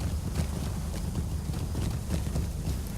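Hooves of a horse galloping up stairs in a fantasy video game, a quick, continuous clatter of clip-clops heard up close at steady volume.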